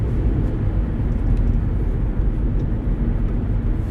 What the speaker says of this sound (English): You can see the airplanes taking off there in the front to the right.